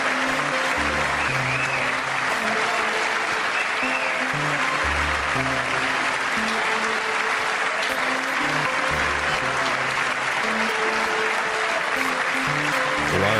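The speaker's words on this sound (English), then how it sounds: "Why are they clapping?" Sustained applause in a congressional legislative chamber, a dense, continuous roar of clapping from a large audience, steady and fairly loud, with low musical tones sounding beneath it.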